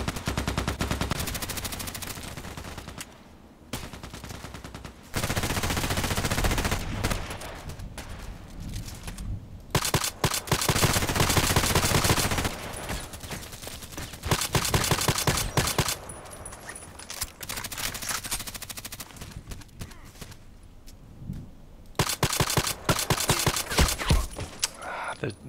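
Rapid bursts of EBR rifle fire in a first-person shooter game ring out loud and close, with short clusters of shots separated by brief pauses across the whole stretch.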